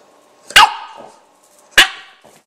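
A puppy gives two sharp, high yapping barks about a second apart, close and loud against near silence.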